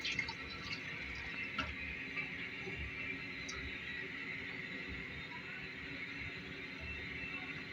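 Water is added to a pot of rice for a potato tahari, a steady faint pouring and trickling wash with soft drips, close and continuous for several seconds with no talk.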